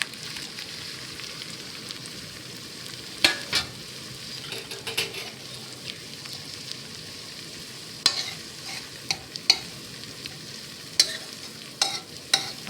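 Tortang talong, an eggplant omelette, fries steadily in a pan with a continuous close sizzle and crackle, broken by a few sharp clinks and scrapes of a utensil against the pan.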